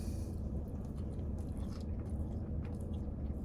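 Close, crunchy chewing and biting of KFC fried chicken, with rapid moist mouth sounds and small crackles repeating steadily throughout the short bite.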